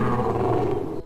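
A cartoon lion from a children's story lets out a sustained, heavy roaring growl, loud and close, lasting just over a second and stopping sharply, alone without speech.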